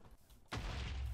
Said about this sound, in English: Oh, I heard an explosion.